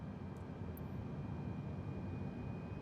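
Steady aircraft APU bleed air in Microsoft Flight Simulator 2020, during a Frankfurt to Berlin flight: a constant broadband rush and low rumble with a faint high whine, unchanging at a moderate level throughout.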